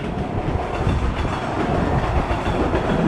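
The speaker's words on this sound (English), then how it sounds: "What a beautiful day in the city, and the train is going right on by." A train rolls past in a Grand Theft Auto city, a steady, fairly loud rumble of wheels and rail clatter filling the whole stretch with no voices.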